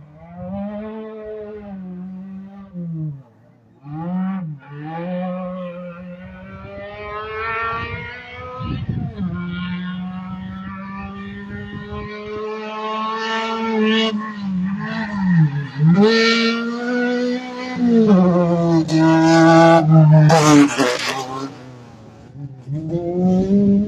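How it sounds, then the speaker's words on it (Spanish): Rally cars at the 2023 Rally Santiagueño stage in Villa La Punta roar past, with engine notes rising and falling in pitch as they rev and accelerate. The sound is loud and sustained, and a voice talks over it. "Escuchamos vehículo de fondo, rugir de motores."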